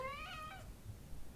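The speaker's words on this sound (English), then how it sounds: "My cat has just joined us" A house cat meows close by, one short rising-and-falling call in the first half second, followed by quiet room noise.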